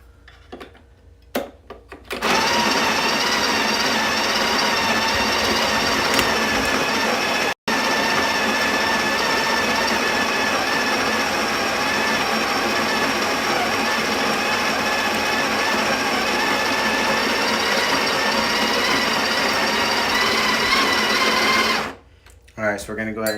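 An Atom 75 coffee grinder grinds espresso beans at a fine setting, a steady loud whirring drone that runs for about twenty seconds before cutting off, with brief handling noises at either end.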